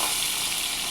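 Fish fat frying in hot oil in a Bengali home kitchen: a loud, close, hissing sizzle that holds steady through a brief moment.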